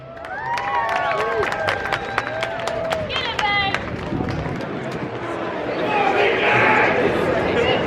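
An audience at a Coney Island outdoor event claps and cheers for a DJ, sustained crowd applause with whistles and lively chatter, voices mixed in throughout.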